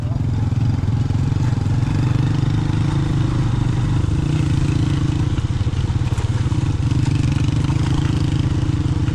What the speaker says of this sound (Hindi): इनके पास वो बड़े ऑफ रोड वाले मोटरसाइकिल हैं।